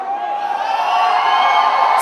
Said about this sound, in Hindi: Sunny Leone के लिए एक बार फिर से जोरदार तालियां